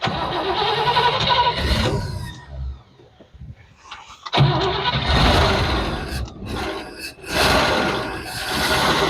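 A V8 car engine cranks and catches, then stumbles and dies before restarting, running rough and uneven on fewer than all eight cylinders with loud, lumpy bursts, close up.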